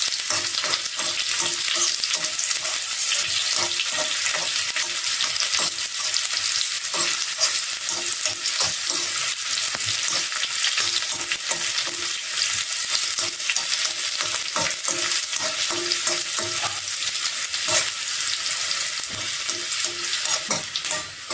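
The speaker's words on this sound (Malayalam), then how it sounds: "നമുക്ക് ഉള്ളി ഇട്ട് കൊടുക്കാം." Onions fry loudly in a pan with a dense, constant sizzle, and a spoon stirs them in frequent scraping strokes; the sound is close and continuous, with no talking.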